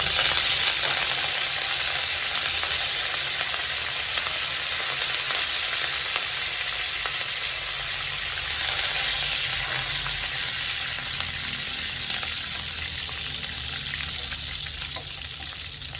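Chilli and curry leaves sizzle in hot oil, a steady close crackling hiss that continues evenly with no talking.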